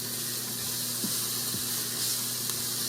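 Onions and thyme sauteing in a pot give a steady, close sizzle with a faint stir or two, no voices.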